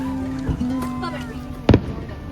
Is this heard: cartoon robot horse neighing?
no